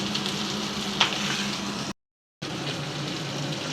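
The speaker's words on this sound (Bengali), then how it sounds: "পাঙ্গাস মাছটা ভেজে নিচ্ছি" Pangas fish frying in oil in a frying pan, a continuous close sizzle with one sharp pop early on, broken by a brief gap of silence before the hiss resumes.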